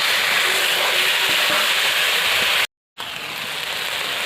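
Onions fry in hot oil with a ground ginger, garlic and cumin paste being stirred in, giving a loud, dense, continuous sizzle up close that drops out for a split second before resuming.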